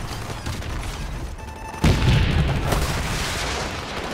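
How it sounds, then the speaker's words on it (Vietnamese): A sharp, heavy boom of an anti-tank launcher firing in Call of Duty 4 Remastered, followed by a rumbling tail, after a quieter stretch of background game noise. "Đây là khẩu súng diệt tăng rất là độc đáo luôn."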